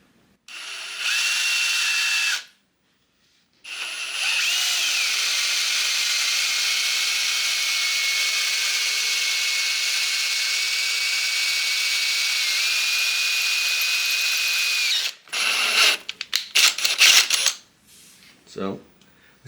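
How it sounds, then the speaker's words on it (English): A power drill bores through a BMW M54 2.5L engine block, a loud, sustained high-pitched whine running for about ten seconds after a brief start, then stopping, followed by clattering handling noises. "So we successfully just drilled a hole through our block."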